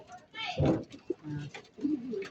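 Racing pigeons back from a 90 km training flight coo near their loft, with soft throaty coos, flutters and someone speaking nearby.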